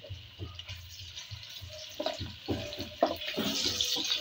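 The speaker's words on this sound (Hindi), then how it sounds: "और प्याज को ना फ्राई करते हैं।" Sliced onion sizzles in hot oil in a home kitchen pan, a soft, steady hiss with scattered small crackles and pops that grow slightly busier toward the end.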